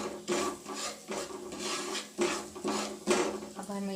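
A spoon scrapes and rubs rhythmically against a cooking pot while a homemade chicken cube mixture is stirred, the strokes recurring in steady, close rasping sweeps with no talk over them.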